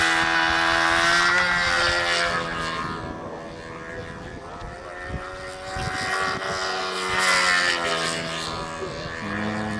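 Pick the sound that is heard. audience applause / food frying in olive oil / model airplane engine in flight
model airplane engine in flight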